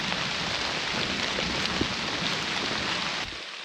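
Steady rain falling in a mossy woodland, a dense even patter close around that continues without a break and softens slightly near the end.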